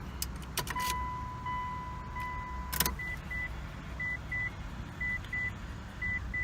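Inside a supercharged Mitsubishi Eclipse GS with a 2.4-litre 4G69 engine, keys jingle and a continuous tone sounds, a clunk follows, then chimes repeat in evenly spaced pairs over a steady low engine hum.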